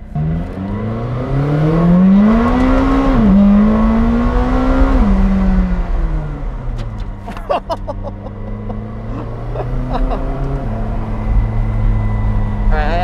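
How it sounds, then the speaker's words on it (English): A McLaren 620R on a public street: its engine note climbs loudly and close, then drops away sharply as the car brakes hard, and the motor settles to a steady lower drone. "I did ask Adrian to test the brakes out, and he just did that."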